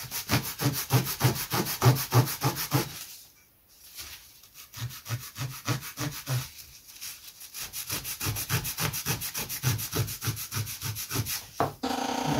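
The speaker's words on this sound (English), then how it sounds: "I think it might be an idea to actually just sand 45 degree on the end there" Sanding a 45-degree bevel on the end of a wooden part for a Lunak vintage aerobatic model glider: close, rhythmic back-and-forth rasping strokes, with two brief pauses before the steady rubbing resumes.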